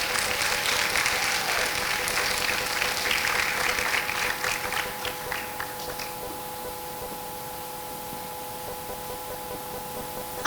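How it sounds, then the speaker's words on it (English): Applause from an audience for a group of presenters, dense clapping for the first several seconds that thins and fades toward quiet near the end. "let's give all of our presenters a round of applause"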